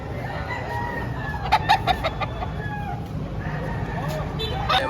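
Several chickens cluck in a steady farmyard chorus, with a rooster crowing now and then over constant background noise.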